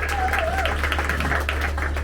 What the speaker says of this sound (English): Give him a round of applause for coming on up and helping me.